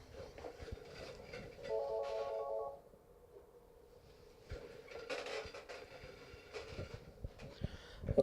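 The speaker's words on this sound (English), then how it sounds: "And the phone's ringing." A telephone rings in short electronic bursts, moderately loud, with background clatter and no voices.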